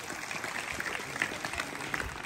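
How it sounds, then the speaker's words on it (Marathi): A crowd applauding at a live comedy game show, a brief steady burst of clapping from many hands that fills the room with dense, even patter. "एकदा मधुकर बापू सावंत यांच्यासाठी जोरात टाळ्या वाजवा."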